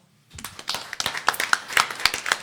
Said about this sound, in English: I'd like to give a round of applause again to the organizer of this festival